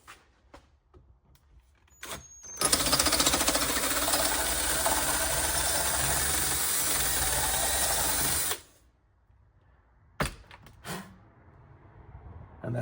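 Drill boring an 8.75 mm hole for an M10 thread in a custom shifter part for an OBS Ford truck, a steady high-pitched whirring grind lasting several seconds up close, with scattered clicks and handling noises before and after.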